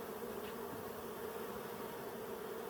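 A dense, steady drone of honey bees buzzing at a Colorado hive, low and continuous with no pauses and no voices.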